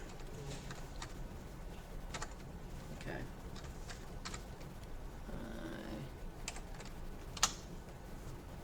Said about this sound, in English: let me retype that